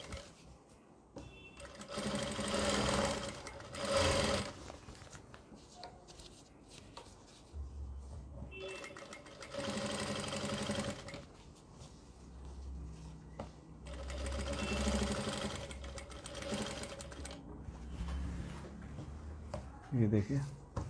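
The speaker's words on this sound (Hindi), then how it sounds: "एक सिलाई लगा देंगे।" A sewing machine runs in several bursts while stitching along the neckline edge of a cut frock, with someone speaking between the runs.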